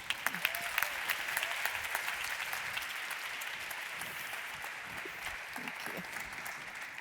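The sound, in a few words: audience applause welcoming the event host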